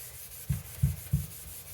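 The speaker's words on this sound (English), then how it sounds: "let's start giving her a little scrubbing" Meguiar's headlight restoration kit scrubbing an old car headlight back and forth, three soft, low rubbing strokes in a quick, even rhythm, close but faint over a quiet steady background.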